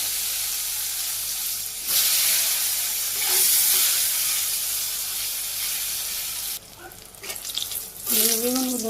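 Sliced eggplant frying in a pan in a Bangladeshi village kitchen, a steady close hiss of sizzling oil that swells and fades, with brief clatter near the end.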